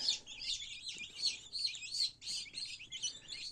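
Continuous high-pitched chirping from many newly hatched chickens, overlapping peeps close by, steady and busy without pause.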